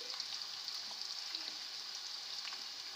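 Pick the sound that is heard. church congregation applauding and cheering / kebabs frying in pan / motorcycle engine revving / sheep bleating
kebabs frying in pan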